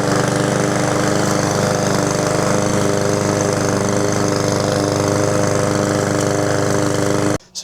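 A PowerSmart 22-inch self-propelled rear-wheel-drive lawn mower engine runs steadily and loudly up close, a continuous droning hum that cuts off abruptly at the end.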